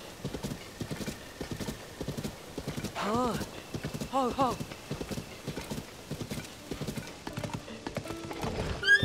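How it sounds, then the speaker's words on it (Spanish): A wild horse in Zelda: Tears of the Kingdom gallops with steady, close hoof clip-clops and neighs twice in loud whinnies, while someone speaks Spanish over it. "Un salvaje, salvaje este caballo."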